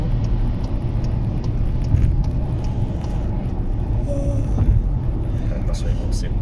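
Citroën C4 car passing on the Dutra highway: a steady, loud road rumble and engine drone heard from inside a vehicle, with a swell as the car goes by, and someone talking over it.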